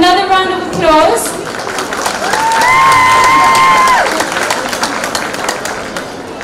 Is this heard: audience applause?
yes